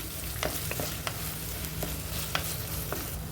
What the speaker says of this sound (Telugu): ఎండుమిర్చి, ఉల్లిపాయలు బాగా ఫ్రై అవ్వాలి